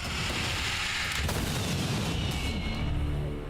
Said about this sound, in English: Gun goes boom, it's true.